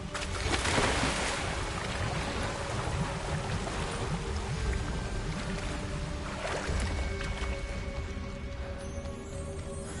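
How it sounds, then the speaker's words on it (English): A waterfall in the Hogwarts Legacy game roars steadily for the whole stretch, a dense, continuous rush of falling water that stays loud and even, with no voices. "The waterfall"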